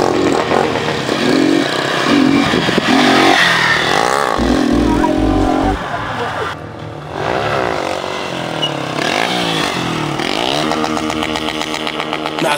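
Loud motorcycle engine revving and roaring repeatedly while the rider does wheelies, with rising and falling pitch as the bike accelerates, continuous and close throughout.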